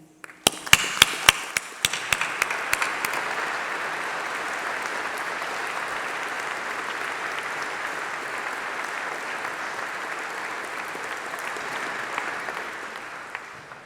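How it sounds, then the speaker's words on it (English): A large crowd at a university graduation ceremony breaks into sustained applause, starting with a few sharp claps and swelling into dense, steady clapping that continues for many seconds. "let's have a round of applause for all those special people"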